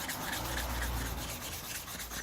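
Sandpaper rubbed by hand to test its grit, a steady, close, dry abrasive scratching that runs continuously without pauses at a low level.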